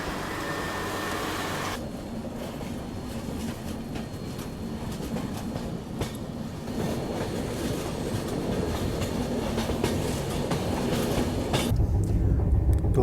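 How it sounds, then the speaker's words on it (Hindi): The Danapur Secunderabad Express running on rails, a loud, steady rumble of wheels and carriages with faint rhythmic clatter, heard from inside the moving train and growing slightly louder toward the end. "अपनी ट्रेन बस चंद्रपुर पहुंचने वाली है"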